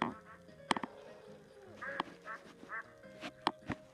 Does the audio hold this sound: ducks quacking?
yes